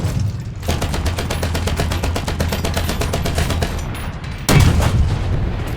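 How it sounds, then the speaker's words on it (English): Rapid automatic cannon fire in the video game War Thunder, from a Hurricane Mk IV or Matilda Mk III, hammers in a fast steady stream for several seconds. A heavier blast cuts in near the end, loud and close, with no voices. "Got him with a cannon there."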